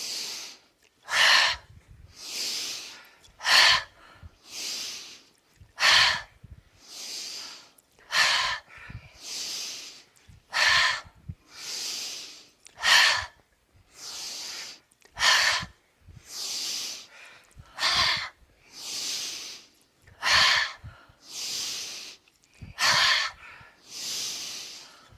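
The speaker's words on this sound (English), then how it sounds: "it can make you feel very lightheaded breathing out through the mouth" Breathwork exercise with fast breaths pushed out through the mouth: about twenty loud, hissing exhalations in a steady, even rhythm, alone and close.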